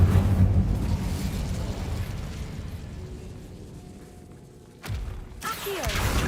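An Incendio fire spell in a Harry Potter video game bursts with a heavy, deep boom that rolls off into a fading rumble, then a second sharp blast flares near the end.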